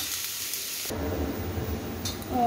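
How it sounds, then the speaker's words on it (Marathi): Onion frying in oil in a pan makes a steady close sizzle that shifts in tone partway through, briefly stirred, with no one talking. "पहा, चांगला खमंग असा कांदा एकदम भाजून घ्यायचा"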